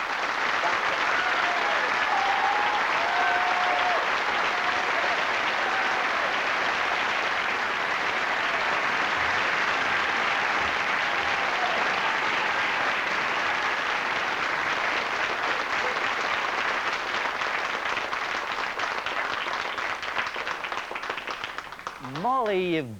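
Studio audience on the 1987 BBC talent show Opportunity Knocks applauds loudly and steadily for over twenty seconds, a dense unbroken wash of clapping with a faint voice underneath.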